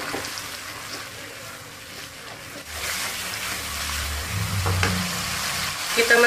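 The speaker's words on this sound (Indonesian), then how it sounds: "Ini kita goreng, kita oseng-oseng." Spices sizzle and fry in a pan as they are stirred, a continuous crackling hiss with scraping stir sounds and a low bubbling swell partway through, for an Indonesian spicy stir-fried chicken liver and gizzard dish.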